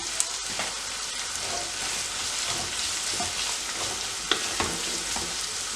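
Sliced onions sautéing in oil in a pan for a pork curry, a continuous sizzling crackle with a few sharp spatters and faint stirring clinks, steady and fairly close, no talk.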